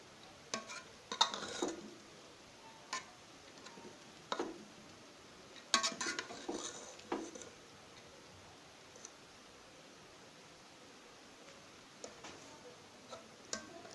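A spoon scrapes and clinks now and then as cooked rice and chickpeas are mixed in a pot, giving soft, scattered taps against a quiet background.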